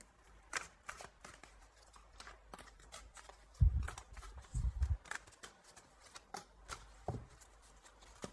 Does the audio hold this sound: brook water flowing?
no